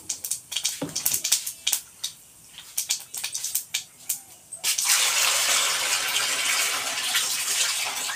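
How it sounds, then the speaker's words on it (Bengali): Water tipped out of a bowl of soaked mustard seeds, starting with a few light clinks and taps, then a sudden steady gushing pour that runs on for several seconds, close by. "বাটির থেকে আমি জলটা ফেলে নিয়েছি"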